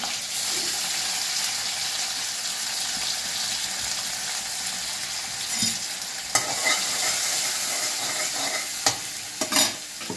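Garlic sizzling in hot mustard oil with a bay leaf in the pan, a continuous dense frying hiss with intermittent stirring clatters and spoon knocks.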